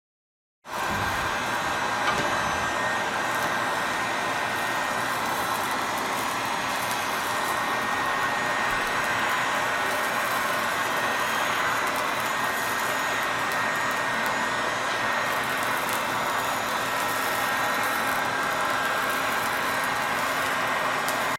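A heat gun blows steadily and loudly, warming a peel-and-stick vinyl floor tile to soften the glue beneath it, a continuous airy whine with no pauses.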